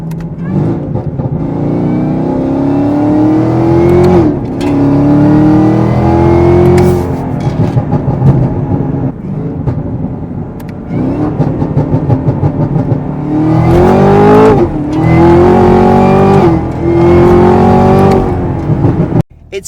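Supercharged car fitted with a Corsa cold air intake, heard from inside as it revs hard through repeated rising pulls with a whining note, shifting between them, loud and close.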